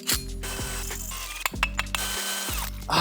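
Power drill boring a 5 mm hole for thread tapping while building motorized roller skates with hoverboard motors: loud whirring motor bursts with pitch drops and a ratcheting, grinding texture, close and alone.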